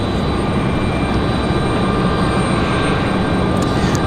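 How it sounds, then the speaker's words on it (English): A Boeing 777 at Raleigh-Durham airport roars steadily and loudly, a dense, constant engine rush with faint tonal whines and no speech. "There's the 777."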